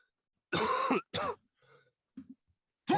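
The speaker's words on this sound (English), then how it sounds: "some coughing in there as well" Several hoarse coughs and throat-clearing hocks in quick bursts, close and fairly loud, with short gaps and a faint rasp between them.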